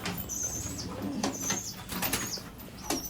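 A mother pigeon arrives to feed her chick in a nest, with bursts of flapping wings close by and soft coos and chirps around them.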